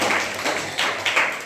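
A classroom audience claps together in a short burst of quick, irregular hand claps, close and fairly loud, fading toward the end.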